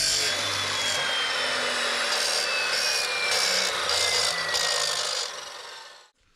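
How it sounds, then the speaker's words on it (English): A metal chop saw with a metal blade slicing through PVC pipe for an Irish flute: a loud, steady whirring grind with rasping texture, close by, that fades and spins down to silence at the end. "I like to use a metal chop saw because I can get a good, perfectly clean cut every time"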